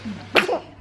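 A single sharp sneeze bursts out close by in a quiet room, brief and loud over a faint background hum.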